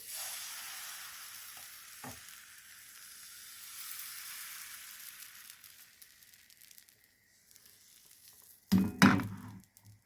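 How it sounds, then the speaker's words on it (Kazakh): Blini batter poured into a hot frying pan gives a soft, hissing sizzle that fades slowly, followed near the end by a brief burst of louder scraping and clatter close by. "Енді келесі тестамызды құямыз."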